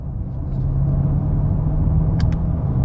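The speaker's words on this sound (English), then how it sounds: "Right, let's see what this 8-speed automatic is like." Range Rover Velar with an 8-speed automatic gearbox, driven at road speed: a steady, low engine rumble and road noise that holds evenly throughout, with no talking.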